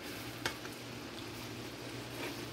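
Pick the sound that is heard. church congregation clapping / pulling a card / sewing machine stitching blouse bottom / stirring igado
stirring igado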